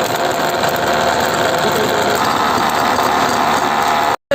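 A household mixer grinder runs continuously while making cotton candy, giving a loud, steady motor whine and buzzing hum close up, with no pauses until it cuts off abruptly near the end.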